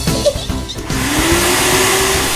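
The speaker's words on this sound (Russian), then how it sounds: "Это мама пылесосить начала." A household vacuum cleaner starts up with a rising whine, then settles into a loud, steady drone with a constant hum.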